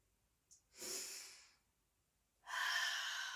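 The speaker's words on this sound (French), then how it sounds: "Inspire et souffle, expire." Slow, audible breaths during a gentle stretching exercise for low back pain, an inhale followed by a long, soft exhale, quiet and close with no talking.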